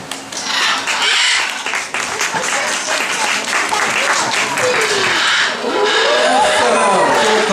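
A crowd at a parrot show claps loudly and steadily throughout, a dense wash of applause with some voices and bird calls mixed in.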